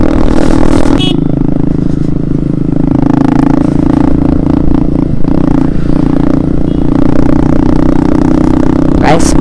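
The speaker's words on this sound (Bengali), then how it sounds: "বাইকটা যে রকম অ্যাডজাস্টের সাউন্ড মাসাল্লাহ" A motorcycle with a modified, loud, throaty exhaust idles and rumbles close by, its deep engine drone continuous while a person talks over it.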